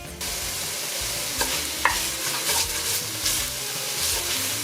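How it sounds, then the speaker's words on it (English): Garlic sizzles steadily in a pot after chopped celery has gone in, a continuous loud frying hiss with a few sharp stirring scrapes and clicks and no talk over it. "Now the garlic and I'll let it fry for another minute."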